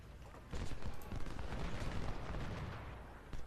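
Rapid gunfire from Ultimate General: Civil War, an American Civil War battle game, with dense crackling volleys of rifle fire rolling steadily for about three seconds at moderate loudness, without any speech.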